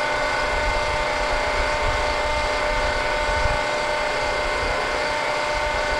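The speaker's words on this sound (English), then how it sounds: "We've checked the pump too, everything sounds good in the pump, everything's running well." Hydraulic pump of a used Cincinnati 230-ton, 12-foot press brake, model 230CBx10, running in a steady, dense machine drone that holds even and unbroken throughout, with no talk over it.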